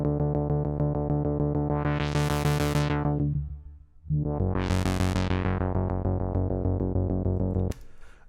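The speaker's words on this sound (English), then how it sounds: "And then you want to throw a filter on," Synthwave bass from two detuned sawtooth oscillators, one an octave lower, run through a low pass filter: a loud, steady pulsing bass line whose brightness sweeps open and closed twice as the filter moves, ending abruptly.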